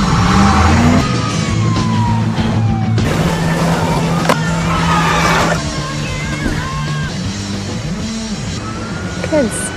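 An ambulance siren wails, rising and falling over a busy mix of engine noise, music and voices, with sudden thumps and rattles as the ambulance drives.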